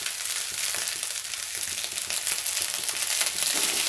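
Spring onion stir-frying in a pan with veg fried rice, a steady loud sizzle with faint scraping and stirring rhythms running continuously throughout.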